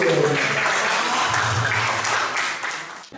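An audience claps for a doctor at an emergency-detection workshop held in a hospital in Semarang. The steady, dense applause lasts the whole stretch and fades a little near the end, with faint voices mixed in.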